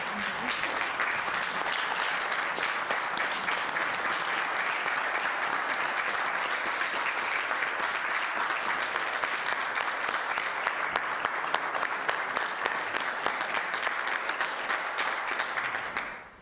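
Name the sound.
applause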